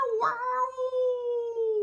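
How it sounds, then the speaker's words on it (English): A single drawn-out meow, loud and close, rising briefly then holding a long wavering tone before fading. "Noisy cats are what we like."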